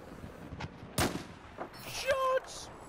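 Gunshots in the Battlefield 4 video game: a few sharp, booming cracks, the loudest near the start, scattered over a murky battlefield rumble, with faint electronic game tones toward the end.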